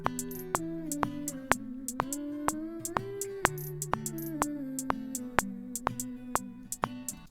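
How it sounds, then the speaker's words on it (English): Hi-hat rolls in a programmed drum beat for a hip-hop remake of a song, crisp ticks in quick rolled bursts over a sustained melodic backing, steady and upfront with no voices. "So now for the next hat, we got some hi-hat rolls"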